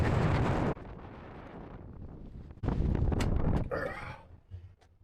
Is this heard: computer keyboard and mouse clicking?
no